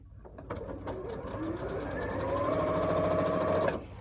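Sewing machine stitching a quilt block, running in a fast, even mechanical chatter that rises slightly in pace and cuts off sharply near the end; close and clear, with no talk.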